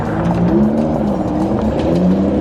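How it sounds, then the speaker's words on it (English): Several Ford Raptor pickup trucks drifting at the Dirtfish facility, a loud continuous engine roar with wavering pitch and rasping tire noise, steady and close throughout. "Drifting time! Everyone go drift!"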